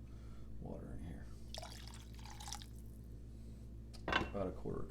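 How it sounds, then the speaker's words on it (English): A little water is poured into a pan holding maple syrup, a brief splashing trickle that stands out in the middle of the clip while a person talks around it. "Now we're going to add a little bit of water in here."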